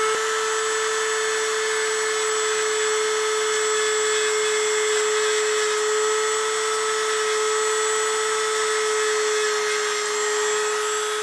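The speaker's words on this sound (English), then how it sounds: "Break out the handy dandy Dremel, and I put a little burr bit on the end" A handheld Dremel rotary tool fitted with a small burr bit shaves down a casting, giving a steady, close, high-pitched whine at constant speed with no pauses.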